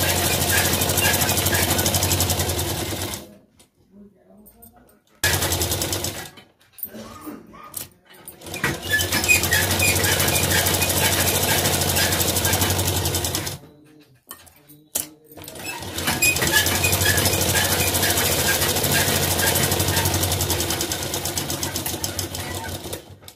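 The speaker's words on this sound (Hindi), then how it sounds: "मशीन की सिलाई भी बढ़ा लेंगे" Sewing machine stitching the lining onto a 38-inch blouse, running in long steady whirring bursts that stop for short quiet gaps before starting again.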